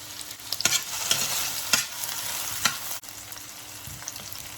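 Onions and potatoes fry in hot oil for Maggi noodles, a steady close sizzle with several scraping stirs of a spoon in the pan, no voices.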